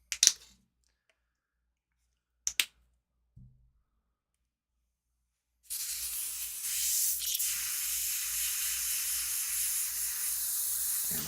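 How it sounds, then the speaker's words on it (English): An airbrush sprays cleaner through its nozzle. A few soft clicks come first, then a sustained, steady hiss of spray that runs on to the end. "Damn, I forgot how good that airbrush cleaner is."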